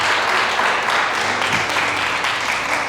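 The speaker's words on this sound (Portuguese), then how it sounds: "Dê uma salva de palmas para Jesus." A church congregation applauds during a worship service, a sustained wash of clapping that stays even and fairly loud from start to finish, with no distinct voices standing out.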